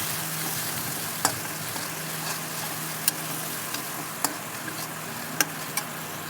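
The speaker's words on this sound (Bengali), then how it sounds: "এবার আমি ভালো করে কষিয়ে নেব।" An egg and sesame dish with turmeric, chili and salt sautés in oil in a pan, giving a steady close sizzle broken by occasional sharp ticks and pops.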